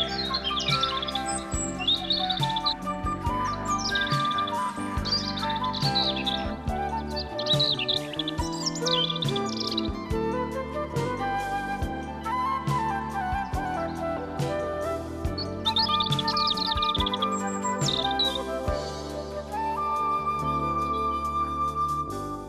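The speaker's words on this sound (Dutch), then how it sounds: "Je hoort en ziet vele soorten vogels in dit stukje ongerepte natuur." Many kinds of birds singing in unspoiled Dutch countryside near toad pools, a dense layered chorus of chirps, trills and whistles continuing steadily throughout, close and lively.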